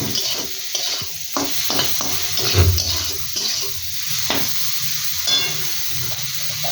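Taro and potato pieces frying with shrimp in a pan, a steady close sizzle broken by repeated scraping strokes of a spatula as the curry is stirred, with no talking.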